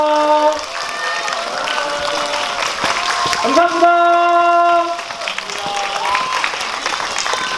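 An audience applauds and cheers as the cast leaves a mini GV for an SBS drama at the CGV Yongsan cinema, a sustained crowd clatter beneath an amplified host speaking over it.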